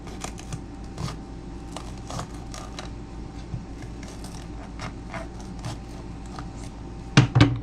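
A knife cuts around the top of a pepper in short, crisp crunching and clicking strokes, close and quiet, ending with a couple of louder thumps; no voices.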